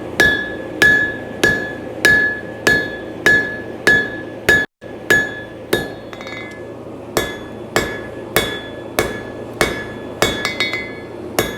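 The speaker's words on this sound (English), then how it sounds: "I'm going to taper it with the horn of my anvil" A steady run of ringing hammer blows on a steel horseshoe held on an anvil horn to taper it, about two strikes per second with a brief pause partway through, loud and close with a metallic clink.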